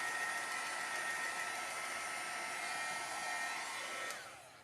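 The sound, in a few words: heat tool drying Inktense ink on a holiday tag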